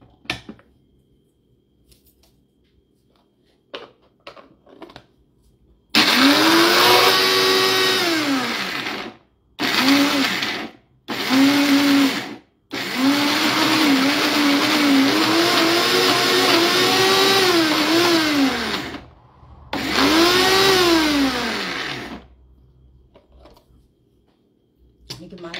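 Roasted coffee beans ground in a loud electric grinder, harsh whirring bursts with rising and falling pitch, stopping and restarting several times in close short pulses.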